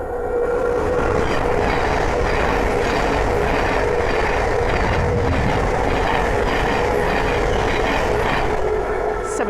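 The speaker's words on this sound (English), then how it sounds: "the first train to pass by is a Thameslink 700 from Peterborough to Horsham" A Thameslink Class 700 train bound for Horsham from Peterborough rushes past at Langford on the East Coast Main Line. The rumble and rattle of the wheels stay loud and constant throughout.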